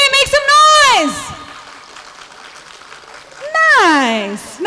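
A team crowd at an Onam celebration erupts in loud cheering, whoops and shouting of children and adults, dipping into a murmur before a second rising burst of screams.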